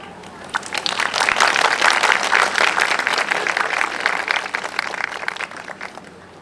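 A crowd at a Kyoto Sakura Yosakoi 2019 award ceremony gives the judges a big round of applause, dense clapping that swells quickly and holds strong before easing slightly toward the close.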